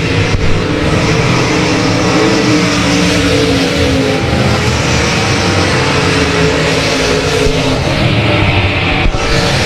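Several race cars battling for position on an oval track, engines roaring loudly and continuously with layered revving as the pack circles close by.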